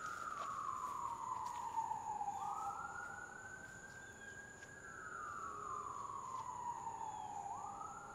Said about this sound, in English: we're going to let the sirens pass.